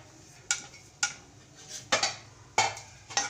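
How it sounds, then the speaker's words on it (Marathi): A spoon scrapes and clinks against a pan as peanuts are stirred in oil, giving five or six sharp metallic knocks at irregular intervals over a faint background hiss. "हे शेंगदाणे आहे ना छान तेलामध्ये परतून घेऊ आपण"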